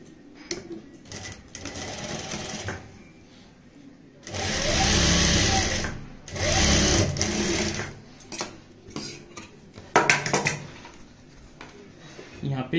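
A sewing machine stitches pintucks on a kurti neck, its motor whirring in several loud runs of a few seconds each, with a voice talking in the gaps between them.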